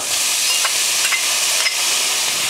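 Sauerkraut goes into a hot pan on lowered heat, producing a loud, continuous close-up sizzle and hiss with a few soft stirring scrapes, no voices.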